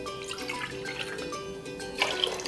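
Cold water poured into a pot for cooking carioca beans, a steady close splashing and trickling stream with small drips, getting a little louder toward the end, with no talk.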